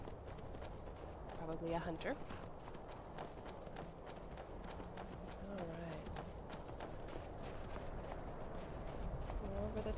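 Horse hooves clip-clop in the video game Skyrim, a steady run of moderate hoofbeats that continues under a person's talking throughout.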